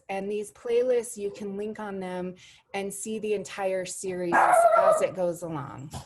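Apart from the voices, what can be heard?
dog Roscoe barking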